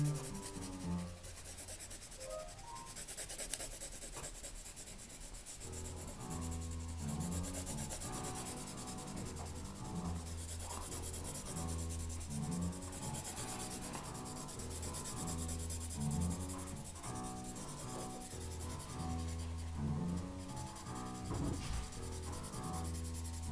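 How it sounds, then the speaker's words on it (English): A brown pencil shades on paper across a drawing of a square-based pyramid, giving close, soft, continuous scratchy rubbing strokes in a steady back-and-forth rhythm with no talking. "if I shade the cut surface in now, I simply shade it in using brown again"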